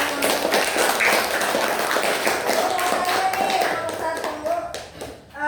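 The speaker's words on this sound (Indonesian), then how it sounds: "Kasih tepuk tangan dulu dong" Lively clapping from a classroom of students during an Islamic religious education lesson, close and brisk, tapering near the end, with some voices mixed in.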